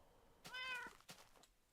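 A cat meows once inside a farming video game, a single drawn-out mew with a short softer follow-up, close and clear with no talking over it.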